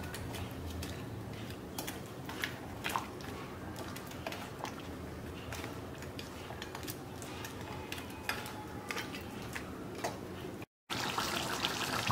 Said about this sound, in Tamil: ஸோ இப்போ நல்லா கொதிச்சு வருது.